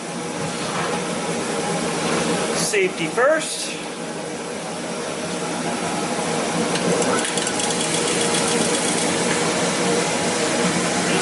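A steady whooshing drone of a running workshop exhaust fan, used while servicing a Hoover WindTunnel self-propelled vacuum, fills the clip, with a brief burst of speech partway through.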